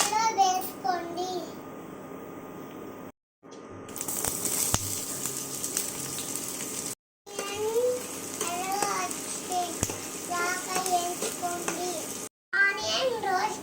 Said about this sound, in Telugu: ఆనియన్ రోస్ట్ అయ్యాయి